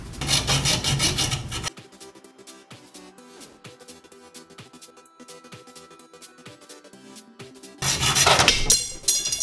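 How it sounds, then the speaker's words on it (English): A fiberglass highway marker being hand-cut in half, a steady loud rasping stroke at start and end with quieter scraping and small knocks in between, no talk. "we're gonna cut one of the fiberglass highway markers right in half"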